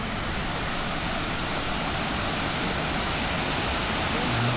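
A stepped waterfall tumbles over basalt rock ledges like a staircase, giving a steady, dense broadband roar that stays loud and unbroken throughout, with no voices over it.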